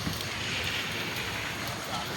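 Heavy rain pours steadily beside a river, a dense, even hiss of falling water with some wind buffeting the microphone, close and continuous throughout the short stretch.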